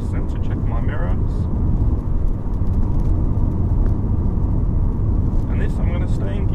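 A car cruises in fourth gear along a UK road, with steady engine and road noise throughout and a person talking briefly near the start and the end.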